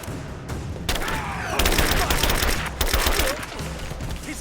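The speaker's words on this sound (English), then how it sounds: "Give me suppression fire!" Rapid bursts of automatic gunfire and overlapping shots rattle continuously through a firefight in the video game Rise of the Tomb Raider, loud and dense with brief pauses between volleys.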